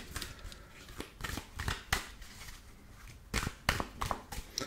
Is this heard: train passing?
no